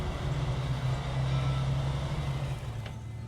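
A truck engine in the SnowRunner video game runs with a steady low drone and a rumbling hum, close and continuous, dipping slightly near the end with a brief higher whine.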